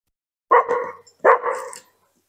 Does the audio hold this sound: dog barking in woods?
yes